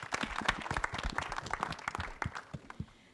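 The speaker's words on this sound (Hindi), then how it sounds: "उनके लिए भी एक बार जोरदार तालियां प्लीज़." Audience at a film trailer launch event claps in a brisk burst of individual, close claps that gradually thin out toward the end.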